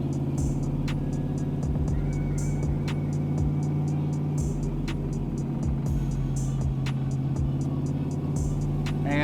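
A cammed 6.0L engine swapped into an OBS truck runs on a dyno in second gear with the converter locked, a loud steady drone with harmonic whine and repeated sharp clicks and pops.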